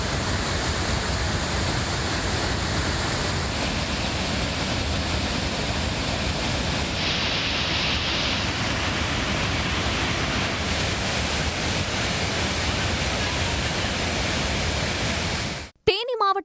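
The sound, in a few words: flooding Manimuthar waterfall after heavy rain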